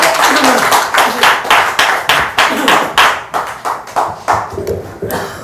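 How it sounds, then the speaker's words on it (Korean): Seminar attendees clap together to welcome a director being introduced, the crisp hand claps landing in rhythmic unison, loud and near, in a regular beat of bursts. "박수를 한번 해주세요."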